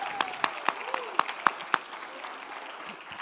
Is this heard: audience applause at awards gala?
yes